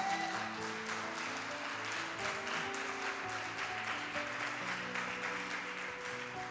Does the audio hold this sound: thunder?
no